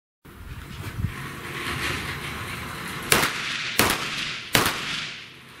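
Gunshots at a Bianchi Cup sport shooting match in the Netherlands: a steady low background, then three sharp, loud shots about a second apart.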